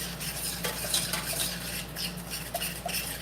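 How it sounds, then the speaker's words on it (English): Pineapple BBQ sauce stirred in a pot over medium heat: a close, continuous scraping and swishing of a utensil against the pot, with a few light clinks over a low background hum. "I'm just going to give it a stir"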